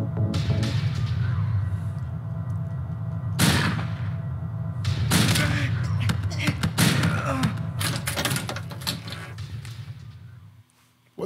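Repeated gunshots in Silent Hill 2 hammer a tough enemy that soaks up round after round, sharp bursts standing out over a low droning game ambience with a voice talking throughout.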